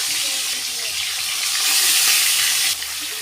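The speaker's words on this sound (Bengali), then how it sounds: "এই যে দেখো মাছগুলো ভেজে নিচ্ছে" Pieces of snakehead fish fry in hot mustard oil in a wok, giving a steady, close, broad sizzle that swells louder for about a second near the end before easing back.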